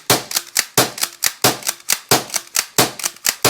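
An Umarex HDX 36J pump-action launcher fires a rapid string of about a dozen sharp, close, loud pops, each followed by a brief mechanical pump click, in a quick steady rhythm with no talking.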